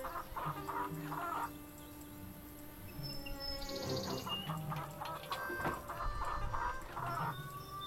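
Hens clucking nearby in short bursts with pauses, scattered calls spread across the stretch over a low background hum.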